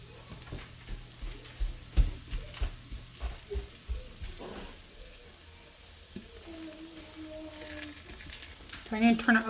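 Pork fries in oil in a pan with a soft crackling sizzle and a run of small pops and spits, fairly quiet and close, settling into a steadier hiss before a brief stir near the end.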